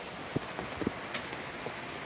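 Rain falling on an anchored sailboat during the rainy season, a soft continuous patter with scattered louder drops tapping on the deck, fairly quiet and close, no voices.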